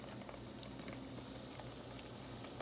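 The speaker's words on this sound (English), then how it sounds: "You see them herbs boiling in there?" Herbs boil in a pot of water for a spiritual bath, giving a faint, continuous bubbling and simmering close by, with no talk.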